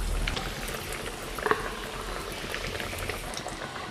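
Egg-coated lote fish chops fry in foaming hot oil, a continuous close bubbling sizzle with a faint utensil clink midway, fairly soft and without speech.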